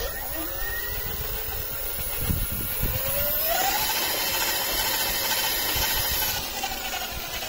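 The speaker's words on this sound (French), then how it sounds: "c'est un bruit de moteur électrique" A high motor whine from a homemade electric bike that rises in pitch as it speeds up, steady and fairly close, over rushing wind and road noise.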